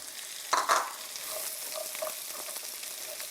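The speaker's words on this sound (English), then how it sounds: "So pan is hot, the butter is smoking," Salmon sticks frying in smoking-hot butter in a pan give a steady, close crackling sizzle, with a louder burst of spitting as they go in, then continuous bubbling hiss with no talk.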